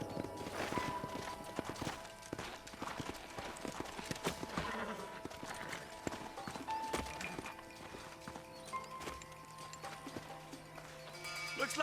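Horse hooves clip-clop steadily over the ground in a Wild West video game, several horses moving at once with occasional whinnies, mid-distance amid background game sounds.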